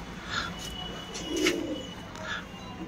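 Imported Salary Teddy pigeons coo softly, a few low throaty coos close by over faint background noise and light chirps.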